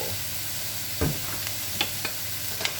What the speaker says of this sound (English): continue to saute the veggies until the cabbage are tender enough for you